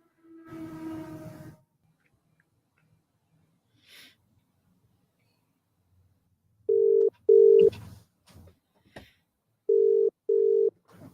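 Telephone dialing into a call, heard as short, clean electronic tone beeps, two pairs in quick succession and then two more after a pause, following a brief muffled noise and faint clicks.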